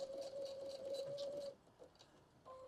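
A sewing machine stitches webbing into a handbag seam with a short, steady motorized whir lasting about a second and a half, followed by quiet handling and a brief second burst near the end.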